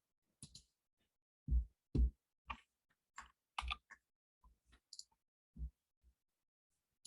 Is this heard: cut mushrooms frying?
no